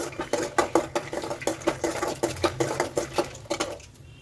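Peanuts frying with popping mustard seeds in a pan for avalakki oggarane, a quick rattling patter of small crackles and pops that fades out at the end.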